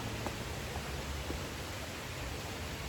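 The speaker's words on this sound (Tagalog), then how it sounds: "Lakas ng ulan." Heavy rain pours steadily outdoors, a dense continuous hiss with no breaks and no voices.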